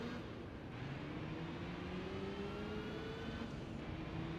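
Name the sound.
car engine in the video game Gran Turismo 3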